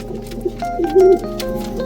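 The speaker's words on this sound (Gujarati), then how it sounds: "કબૂતર કેવું છે" A pigeon coos softly a few times amid a steady low background hum, with a slightly louder, drawn-out coo near the middle.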